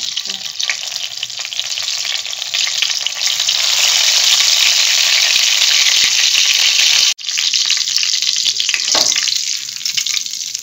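Radhuni seeds and bay leaves hit hot oil for tempering, giving a loud, bright, continuous sizzle that swells, cuts out for an instant, then resumes more gently with faint stirring.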